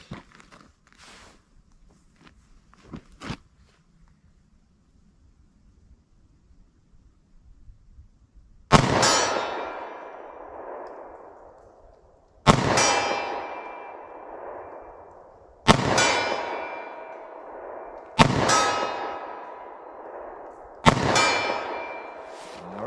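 Five .45 ACP pistol shots from a short-barrel handgun strike steel targets, each a loud sharp crack with a ringing clang that decays over a second or two, spaced a few seconds apart after a quiet stretch with faint shuffling.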